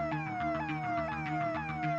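Police car siren wailing in a fast, repeating falling sweep, loud and continuous, with no voices.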